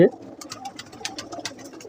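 Pigeons coo repeatedly in soft, throaty pulses, several birds close by, with a brief thump at the start.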